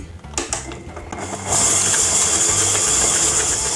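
An electric mixer creams softened butter and sugar, whirring in quietly before jumping to a loud, steady high-speed buzz and holding there, near and continuous.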